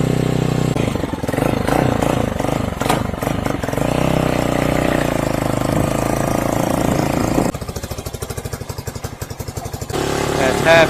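A Hawk-X 250 motorcycle with a modified stock carburettor runs on choke with the throttle held up slightly, its engine idling loud and close, then shifting to a rapid uneven chugging and picking up again.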